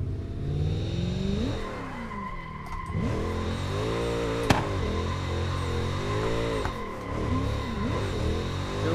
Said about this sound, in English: Do a little scrubbing of our tires here before we take on this monster.